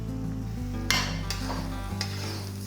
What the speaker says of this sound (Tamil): இது கலந்து விட்டுட்டே இருக்கலாம் இது கொஞ்சம் நேரம் வதங்கட்டும்